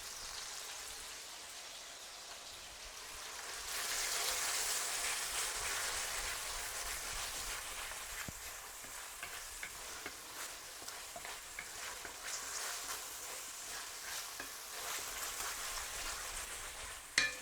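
Garlic followed by ginger frying in a pan over a medium-high flame, a steady close crackling sizzle with scattered sharp pops and spits, no voices.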